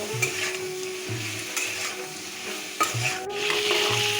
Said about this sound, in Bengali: মতন হলুদ জিরে আর কাঁচা লঙ্কা বাটা সব কিছুকে একসাথে ভালো করে কষিয়ে নেব